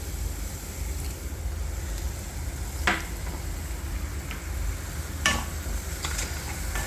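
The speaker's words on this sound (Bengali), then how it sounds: "এটাকে একটু ভালো করে ফ্রাই করে নিই" An onion-tomato masala fries softly in a pan after a splash of water, a faint steady sizzle with two brief clinks of a utensil against the pan, heard close and quiet with no talking.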